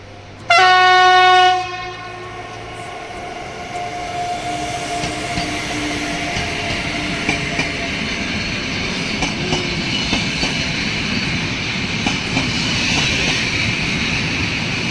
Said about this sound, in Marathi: तर ट्रेन बघू शकता इकडची कशी